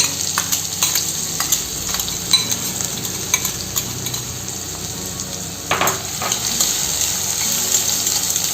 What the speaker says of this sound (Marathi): कांदा आपल्याला चांगला छान ब्राऊन करायचा आहे